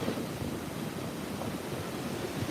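Water rushes along the Potomac River at Great Falls, Maryland, on a winter day. It makes a steady, moderately loud broadband roar with some wind noise and no talking.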